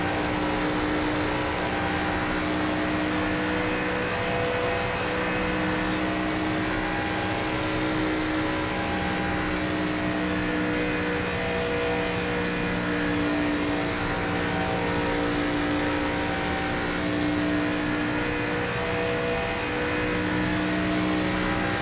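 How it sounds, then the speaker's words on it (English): Race car engine in the NASCAR 25 video game, a sustained droning roar with steady harmonic whine, held loud and constant without pauses or voices. "I like the way the engine sounds though when you get close to the wall."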